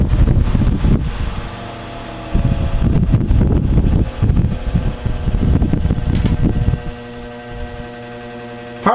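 A vintage electric fan running on its low setting, shaking and wobbling, gives off a close, loud, steady whirring rumble with low humming tones and gusty air noise that swells and dips throughout.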